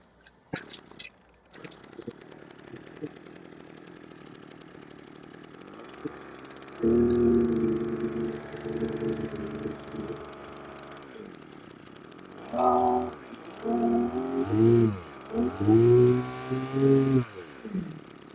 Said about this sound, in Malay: Macam tu saja nak hidupkan power sprayer.